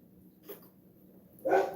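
A dog gives a single short bark near the end, preceded by a faint muffled sound, heard at moderate distance during a live chat with little else around.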